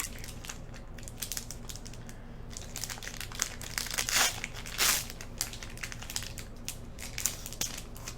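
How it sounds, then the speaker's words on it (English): Foil wrapper of a Magic: The Gathering Innistrad card pack crinkles and crushes close up, with bursts of crumpling and a couple of sharp tearing rips in the middle over a low steady hum. "I just hate trying to open the pack"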